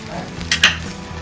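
Dosa-style batter being spread on a hot pan, a steady sizzle with two short scraping clinks of a utensil in the middle, close and alone without speech.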